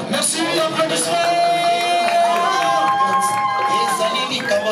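Wedding guests at an official marriage celebration cheer and shout together in a lively crowd, with voices rising over a steady background hum and music-like tones.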